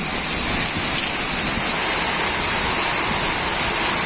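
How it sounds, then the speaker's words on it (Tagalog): Heavy rain pours down in a sudden downpour, a loud, dense and unbroken roar of water with no voices over it. "Sobrang lakas ng ulan."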